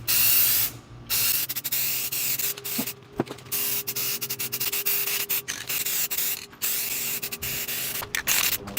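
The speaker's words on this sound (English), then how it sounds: "Now we're just going to spray paint it, and we're going to use some of this Rust-Oleum high heat." Rust-Oleum high heat paint sprayed from a can onto vehicle suspension parts in light coats, loud close bursts of hissing spray separated by short pauses, no talking.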